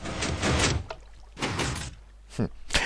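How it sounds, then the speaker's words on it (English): A wooden door in Minecraft swinging shut and open, several short thudding clicks spaced across a few seconds, close and fairly loud, with someone speaking between them. "I installed a little door to get into the potion lab's workings"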